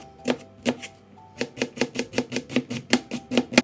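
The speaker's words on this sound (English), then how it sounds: "So I'm gonna cut the onion." A knife chops an onion on a cutting board with sharp, crisp taps, slow at first and then a quicker steady rhythm, close and clear with no talking.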